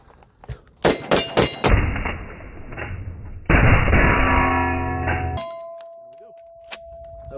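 Steel target struck by 12 gauge 00 buckshot from a Mossberg shotgun, giving a few sharp metallic clangs that ring out, then a long bright ringing tone that slowly fades, with no talk.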